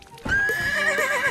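Horse neighing in the video game SpongeBob SquarePants The Cosmic Shake: one loud, close, wavering whinny that rises and then trembles on, with no talk over it.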